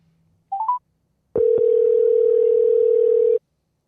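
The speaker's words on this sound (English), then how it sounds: "we're going to try to get Mr. Todd Dillon on the phone" Telephone line tones while a podcast host rings a guest: a short burst of dialing beeps, then a steady, loud continuous tone held for about two seconds before cutting off, with no talk.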